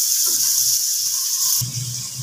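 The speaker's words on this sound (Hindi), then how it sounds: "मैं हल्का सा सॉटिंग करूँगी, फिर गोल्डन ब्राउन नहीं करना, हल्का सा इसे फ्राई करेंगे" Chopped onion fries in a pan with a steady high hiss and sizzle, close and fairly loud. Soft low stirring thumps sit beneath it, and the hiss briefly shifts near the end.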